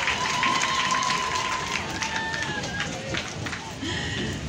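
An audience claps steadily throughout, a dense, continuous patter of many hands, while a speaker's voice carries over the top.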